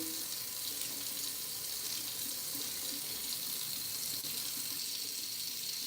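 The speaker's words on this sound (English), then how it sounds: "I'm running hot water, and I'll just, on this towel" Hot water runs steadily from a tap onto a towel, a constant even hiss of flowing water with no pauses, moderately close and alone.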